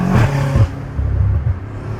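A downpiped BMW M5 Competition with aftermarket intakes revs its V8 in short loud bursts close by, the engine note rising and dropping twice before settling into a lower rumble.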